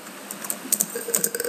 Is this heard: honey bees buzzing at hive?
no